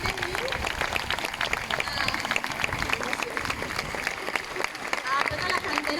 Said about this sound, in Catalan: se mereixen este fort aplaudiment